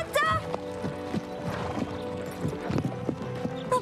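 Horse hooves clip-clop in a regular rhythm at close range, each step a sharp knock, with a brief whinny and voices speaking over parts of it.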